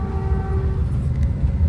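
Inside a northbound limited-stop Caltrain train running express from Menlo Park toward South San Francisco, a steady loud rumble of wheels and carriage fills the space, with a faint tonal whine fading early on.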